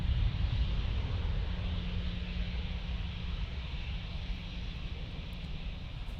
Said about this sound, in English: Let's get this takeoff here.